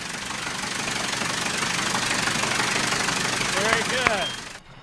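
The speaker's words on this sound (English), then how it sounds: "Now Ken and Greg can hear, for the first time, how a Wright engine really sounds." A replica Wright brothers aircraft engine runs steadily with a rough, knocking drone, then a few whistly tones rise near the end before the sound cuts off abruptly.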